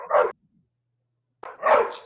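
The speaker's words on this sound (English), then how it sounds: "who's got the dog barking?" A dog barks twice nearby, two loud, sharp barks separated by about a second of silence, with no speech around them.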